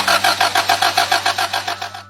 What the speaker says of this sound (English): You might turn the key or push the start button and hear the engine cranking